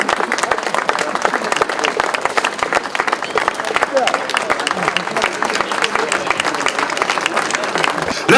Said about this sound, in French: Vos applaudissements s'il vous plaît pour Joppe